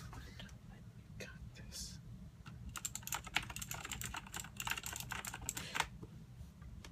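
Keys clatter on a Razer BlackWidow keyboard in quick, uneven bursts of close clicks over a soft background hum, with a faint whisper-like voice in places.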